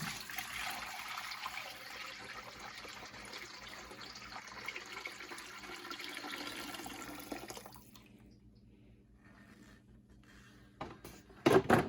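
Liquid beef fat, rendered into tallow in a crock pot, pours into a bowl with a steady, soft trickling splash, then stops, leaving quiet before a few brief clatters at the end.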